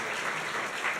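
A conference audience claps in a short, even burst of applause, a soft, dense patter heard from a moderate distance.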